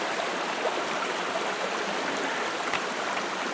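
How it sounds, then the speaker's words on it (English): A small brook runs down a wooded hillside in spring, a steady close rush and babble of water, even and unbroken throughout, with no voices. "There's this beautiful little brook running down it."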